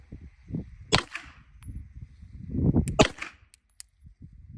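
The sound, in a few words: OA Defense 2311 pistol gunshots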